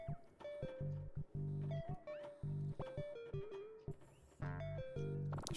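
A cat meows repeatedly in the video game Stray, a series of short close meows and chirps in an irregular rhythm over a loud, droning electronic music background.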